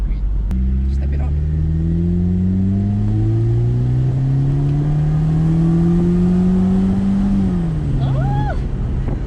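A supercharged Mercedes-Benz SLK R171 accelerates hard, its engine note climbing smoothly and steadily in pitch before a brief drop at the shift, loud and close, with people talking faintly over it.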